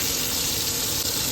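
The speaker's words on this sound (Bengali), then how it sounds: "তেলে টমেটোগুলো ভেজে নিচ্ছি।" Tomatoes frying in hot oil in a pan while cooking a fish curry with cauliflower and potato, giving a steady, dense hiss that stays loud and even throughout with no voices.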